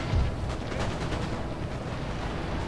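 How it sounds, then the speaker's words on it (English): Grapeshot cannon fire from massed artillery on a Napoleonic battlefield in Napoleon Total War, a dense low rumble of overlapping blasts with a stronger boom at the start, continuous and distant-sounding. "Now is the time for grape shot."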